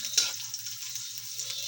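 Onions fry in a pan with a soft, close crackle and hiss, one sharp stirring scrape near the start and lighter stirring sounds after it, with no voices.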